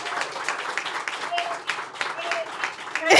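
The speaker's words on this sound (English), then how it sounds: "A warm round of applause for closing out our first season here in partnership with the Line Hotel" At the end of a live talk show at the Line Hotel, an audience gives a warm round of applause, with steady, moderately loud clapping and cheering voices throughout.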